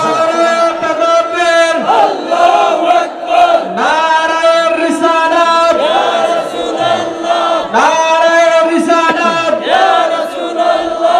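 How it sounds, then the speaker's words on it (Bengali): A large crowd at an Islamic sermon gathering chants slogans in unison, loud, rhythmic and repeating, with a lead voice calling and the mass of voices answering in strong, regular waves. "ইনশাআল্লাহ স্লোগান লাগান"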